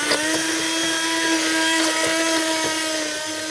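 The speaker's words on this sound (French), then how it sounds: "Nos champignons sont cuits, je peux les mixer." A blender puréeing cooked mushrooms, a loud, steady high-pitched motor whine running continuously without pause.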